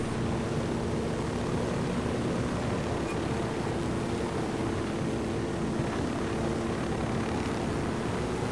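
Helicopter flying in the video game Ghost Recon Wildlands, a steady, dense rotor and engine roar that fills the whole clip at constant loudness, with no voices.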